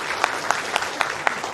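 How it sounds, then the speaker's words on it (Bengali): A small group claps for Ratan, a short burst of quick, even handclaps close by with a regular rhythm, lasting under two seconds. "জোরে হাততালি হোক রতনের জন্য।"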